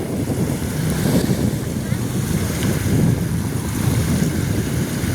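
Strong wind buffets and roars across the microphone in a constant low rumble on a fishing boat at sea, with water and the boat's motion faintly underneath.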